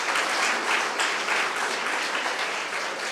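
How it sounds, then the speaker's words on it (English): Audience at a live hackathon event breaking into applause, a dense, even burst of many hands clapping close and steady for a few seconds with little talk. "Round of applause for this man."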